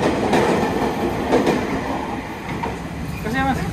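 Passenger train standing at a station in Java, heard as a steady rumble and clatter of railway cars with a faint squeal near the end, with people talking over it throughout.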